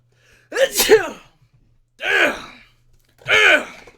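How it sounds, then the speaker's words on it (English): Three sneezes from one person at close range, the first a drawn-out double burst and the next two sharp and separate, each followed by silence. "Oh, I need to sneeze."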